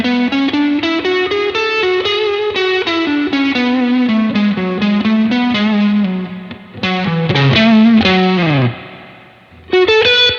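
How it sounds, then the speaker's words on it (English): Loud distorted electric guitar lead playing a melodic line with bends, its built-in spring reverb layered with a hall reverb from a Martinic TG100 plugin, drenched in a chorus-like shimmer, with a brief pause near the end. "So the guitar already has like a spring reverb on it, so we're just like putting reverb on reverb"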